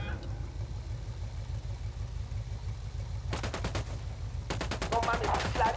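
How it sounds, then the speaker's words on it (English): Bursts of automatic gunfire from a Ghost Recon Wildlands firefight begin partway through, rapid repeated shots over a steady low engine-like rumble, moderately loud and growing denser toward the end. "Opening fire."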